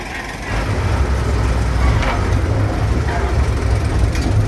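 Steam locomotive number 17 at the PG Jatiroto sugar mill railway, a loud steady engine rumble and chuffing roar that rises and holds for several seconds, close by.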